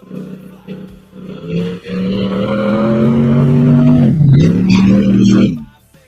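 The race car Pure Hell idles and rolls back toward the start line at a drag strip. A loud, steady engine drone swells and holds, dips briefly, then cuts off, with a voice talking over it.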